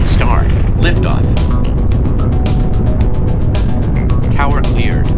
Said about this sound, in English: Engine start. Liftoff.